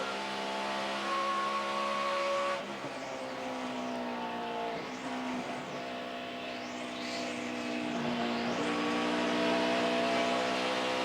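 NASCAR stock car engine held at high RPM at Pocono during the 2011 5-Hour Energy 500, a steady harmonic engine drone with a few brief pitch dips and recoveries, heard without any talk.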